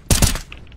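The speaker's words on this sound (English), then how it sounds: "Deploying flashbang." A flashbang grenade detonating in a first-person shooter game, a sharp loud double bang in quick succession followed by a brief ringing tail of faint tones.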